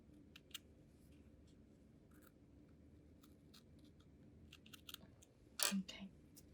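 Quiet scissors trim a small piece of fabric backing for a punch needle brooch, with light scattered snips and one sharper cutting burst near the end.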